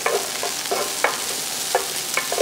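Kale being quickly blanched in boiling water in a cooking competition kitchen, a bubbling, churning wash with rhythmic stirring clatter, no voices.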